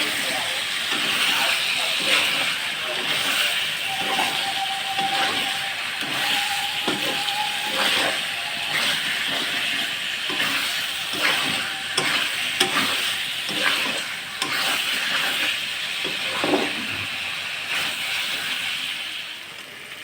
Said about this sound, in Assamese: প্ৰায় আধা ঘণ্টা ভজাৰ পিছত মাংসখিনি ধুনীয়াকৈ ভজা গৈছে।